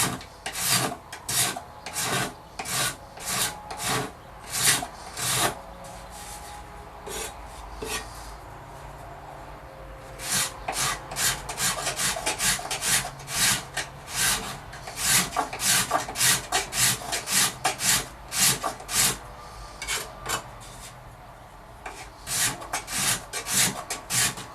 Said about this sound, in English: you just keep scraping until you get it all down level with the sides